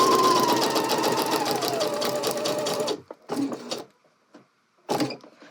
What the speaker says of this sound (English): we're going to stitch all the way down to this dot here in the pocket bag